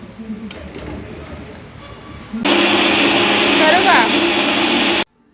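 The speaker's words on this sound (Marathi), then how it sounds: "तर मी हे आता मिक्सरला बारीक करून घेणार आहे" A mixer grinder starts up with a loud, steady whirring roar after a quieter stretch, running close by for a few seconds before cutting off.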